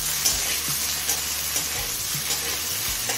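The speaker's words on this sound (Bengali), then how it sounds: "এখন আলু আর গাজরটা প্রায় সিদ্ধ হয়ে আসা পর্যন্ত ভেজে নেব।" Potatoes and carrots fry in a pan over a medium gas flame for navaratna pulao, making a continuous close sizzle broken by regular stirring scrapes, with no talking.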